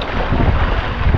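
Strong wind roars and buffets against the microphone during deep flooding, a loud, steady rushing noise that fills the whole moment.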